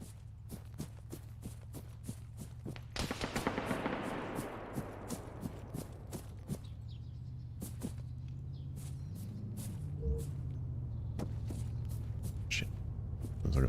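Rapid gunfire in the video game Arma 3, a string of sharp reports over steady background noise, with a denser burst early on and scattered shots afterward.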